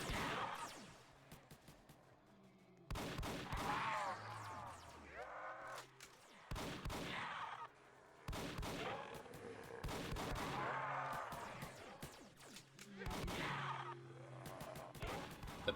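Handgun shots in the Roblox game Project Lazarus crack out in several sharp bursts, loud and close, separated by brief quiet gaps, with faint game sounds underneath.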